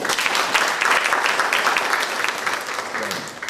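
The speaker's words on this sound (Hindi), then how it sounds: "ग्रुप के लिए जोरदार तालियां।" Loud, sustained applause from an audience in a session hall, praising a group of medical professionals, dense clapping that fades slightly toward the end.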